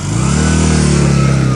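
A motorcycle engine revs steadily nearby, a loud, continuous mid-pitched roar that holds and climbs slightly, with no talking over it.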